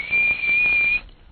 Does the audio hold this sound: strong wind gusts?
no